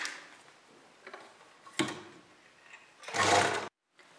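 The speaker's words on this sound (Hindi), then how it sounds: "इस कपड़े को फोल्ड करते हुए सिलाई लगा लेंगे।" A sewing machine stitches along folded kurta fabric in short bursts, with a louder run of stitching near the end before it stops abruptly; nearby and fairly quiet otherwise, with no talking.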